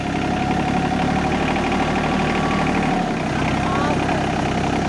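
A foundation auger's engine idles steadily while it bores pier holes for an off-grid cabin, a continuous mid-pitched drone with faint mechanical whine, loud and close throughout.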